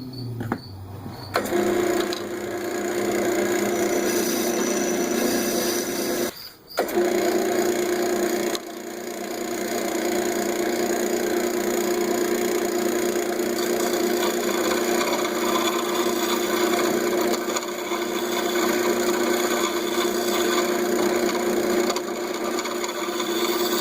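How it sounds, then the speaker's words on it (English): A poplar segmented vase is hollowed out on a wood lathe, a steady close whirring drone with a cutting hiss that runs nearly the whole time, briefly breaking twice before carrying on alone without speech. "that's as far as I'm going to go with hollowing out the inside"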